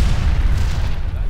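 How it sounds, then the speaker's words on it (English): A deep, heavy explosion rumble from C4 charges in the video game Sniper: Ghost Warrior 2 fills the clip, loud and sustained with a booming low roar that slowly fades. "We'll blow the charges when we got some distance."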